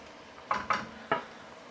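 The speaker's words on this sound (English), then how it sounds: "So the pre-cooked chicken goes in." Pre-cooked chicken for a chicken vindaloo dropping into a hot pan, giving three quick sizzling bursts as pieces land, each fading into a quiet crackle; close and moderately loud, with no talking.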